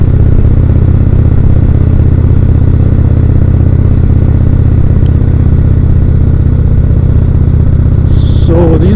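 A 2016 Indian Roadmaster motorcycle on the road, a loud steady engine and wind roar throughout, with a brief faint voice near the end.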